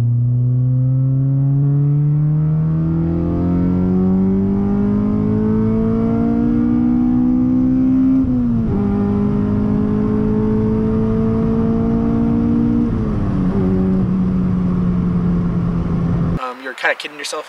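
An 8th-gen Honda Civic Si inline-four with a header and a full 3-inch Skunk2 Megapower RR exhaust, droning steadily as it pulls under load, pitch climbing through the gears with two brief shifts, loud and close throughout.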